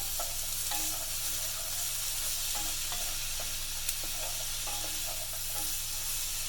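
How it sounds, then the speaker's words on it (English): Apples sizzle and fry in a cast iron pan, a steady broadband hiss with soft scraping stir strokes recurring every second or so, close and alone without talk. "We're going to get these apples stirred up."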